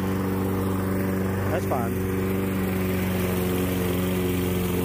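A lawn mower runs steadily while cutting a small residential yard, its engine drone continuous and fairly close throughout, with people talking over it.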